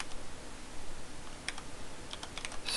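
Typing on a computer keyboard while entering a Windows command to set up the BitLocker service, a steady run of light clicking keystrokes close by, with no talking.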